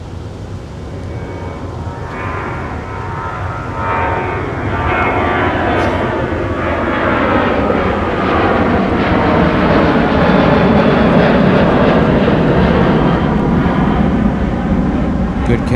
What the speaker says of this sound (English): Southwest Airlines 737. That's the 700 that came in earlier.